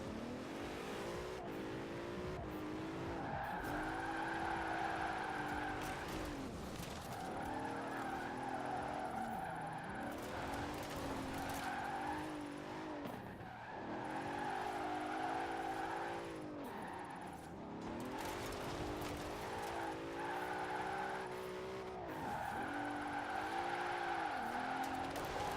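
Car drifting through a drift zone in a Forza racing video game, the engine revving and falling in repeated waves with tires squealing and skidding, loud and continuous for the whole stretch.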